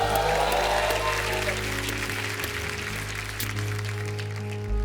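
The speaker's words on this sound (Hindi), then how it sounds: "जोरदार तालियां।" A studio audience on a TV comedy show breaks into loud applause, continuous clapping over a low musical hum that carries on steadily and fades slightly toward the end.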